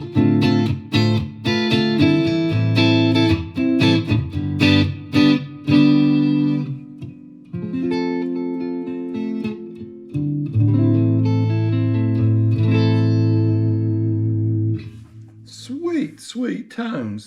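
EART T380 electric guitar played clean through a single-coil pickup, with ringing strummed chords and picked notes sustaining loudly and alone, then a short sliding lick at the end.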